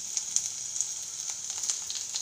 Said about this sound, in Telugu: ఇలా వేసుకొని నూనె కొద్దిగా బాండీలో వేసుకొని ఒక స్పూను నెల్లేరన్నీ వేసుకొని వేయించుకోవాలన్నమాట.